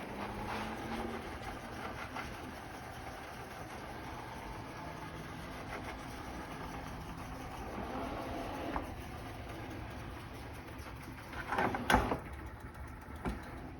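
An OKP K8 robot vacuum cleaner runs quietly with a soft mechanical whir and motor drone as it turns, with a few brief clacks and bumps toward the end.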